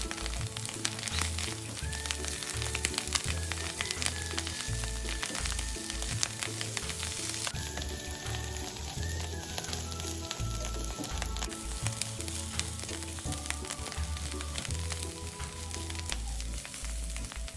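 Water gourd sizzles steadily as it is stir-fried in a wok, a continuous close frying hiss with light scraping and stirring, and no talking.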